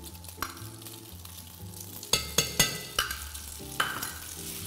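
Butter melts and sizzles in a pan of linguine with olive oil, a steady sizzle under a series of sharp clinks and scrapes as a utensil stirs against the pan, with a low background tone.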